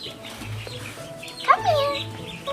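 A pet duckling lets out a few high, rising peeps up close, while someone talks softly nearby.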